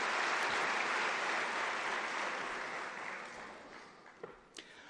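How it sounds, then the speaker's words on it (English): Applause from an audience at an academic year closing ceremony, a broad wash of clapping that starts full and gradually thins and fades, ending in a few scattered claps. "I think we can give him another round of applause"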